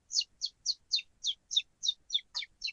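A person whistles in imitation of bird calls, about ten quick, clear chirping notes in a steady rhythm, close and fairly loud with near silence between them and no talk.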